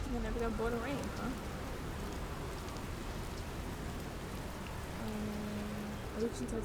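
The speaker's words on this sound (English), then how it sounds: "It's a good thing I never got bored of rain" Steady rain hisses over a broad, even wash of noise in the space game Outer Wilds, continuous and fairly close, while a voice talks over it at the beginning and end.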